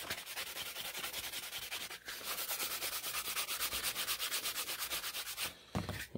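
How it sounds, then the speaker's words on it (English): The edge of a kydex sheath for a hatchet is hand sanded and polished in fast, regular back-and-forth strokes, a close, dry scratching rhythm with brief pauses and no talk. "So before sanding, you kind of see the edge right there. So a quick hand polish,"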